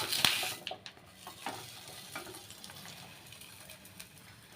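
Obbattu dough landing on a hot, dry kadai, setting off a soft, steady sizzle up close, with a few light scrapes and knocks of utensils at the start and no one talking.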